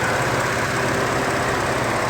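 A 3.5-liter V6 EcoBoost in a 2014 Ford F-150 FX4 idles with a steady, even hum and low rumble, heard up close under the open hood with no voices.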